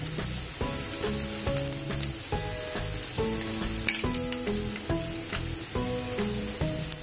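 Thin rice flour ghavan batter cooking on a nonstick pan, a soft steady sizzle close by with faint light clinks and scraping, no voices.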